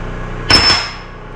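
A hammer taps a roll pin into a Dana 44 axle during reassembly, giving one sharp metallic strike followed quickly by a lighter second tap over faint background hum.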